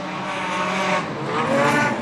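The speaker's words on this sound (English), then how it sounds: "We come around to the Knoxville line, and the modified sedans are back underway" Modified sedan race cars roar around Kingaroy Speedway during a heat race, a steady, loud engine drone that swells and fades slightly as the pack passes.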